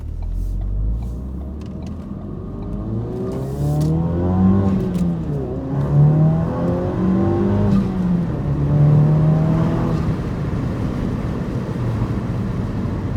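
A tuned Ford Focus RS engine revs up and accelerates, its rising tone sweeping upward several times as it pulls hard and steady, close and loud.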